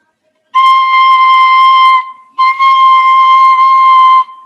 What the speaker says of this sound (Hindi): मतलब जैसे कि ये बांसुरी है